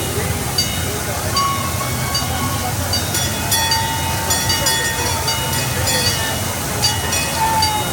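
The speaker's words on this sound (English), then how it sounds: "Hey, here comes the train." An older amusement park dark ride train at the Santa Cruz Beach Boardwalk rolls in on its track, a steady rumbling clatter with faint squeals and clicks, close and continuous, with people talking over it.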